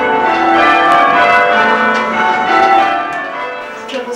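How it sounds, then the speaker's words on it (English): Six of the middle bells from St Mary's peal of twelve ring together in a loud, continuous wash of overlapping tones, with no speech. "led St Mary's ringers in a test using 6 of the middle bells"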